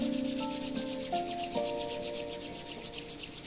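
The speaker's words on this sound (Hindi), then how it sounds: "दोनों हाथों को जोड़ें, जोर से रब करें" Two palms rubbed vigorously together, a rapid rhythmic swishing friction repeating steadily for several seconds, close and clear, alone over a faint soft tone.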